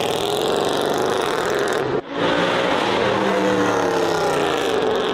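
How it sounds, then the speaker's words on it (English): A Mercedes C63 AMG engine revs loudly and close up, a continuous roaring growl with one brief cut in the throttle partway through before the roar resumes at full strength. "this, my friend, is a C63 AMG"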